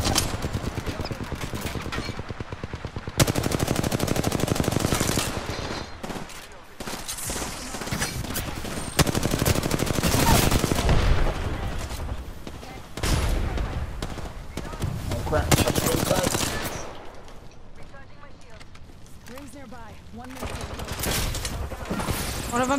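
Sustained bursts of automatic gunfire and rapid shots during a video game shootout, dense and loud across the whole stretch with brief lulls, while players talk over the firing.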